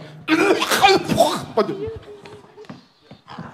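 A raspy, gravelly cough, forced and exaggerated like an elderly man's, with voices and laughter around it.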